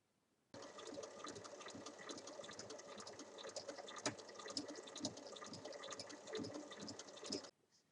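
Fabric pieces pinned together are stitched on a sewing machine, a close, fairly quiet, rapid mechanical whirring and ticking that starts abruptly, runs for several seconds with slight speed changes, then stops; no talking.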